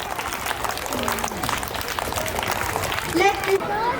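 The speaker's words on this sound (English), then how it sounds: "Please give a huge round of applause." Audience applause at a Christmas celebration, a dense wash of clapping that fills the whole moment, with voices speaking and singing over it toward the end.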